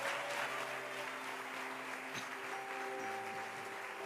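A church congregation applauds at a Spanish-language service, sustained clapping from many hands at even loudness throughout, with a held organ or keyboard chord sounding underneath.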